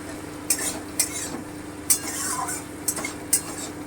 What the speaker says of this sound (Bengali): আমি এটা ততক্ষণ অবধি ভাজবো যতক্ষণ পর্যন্ত পটলের খোসাটা নরম হয়ে না যাচ্ছে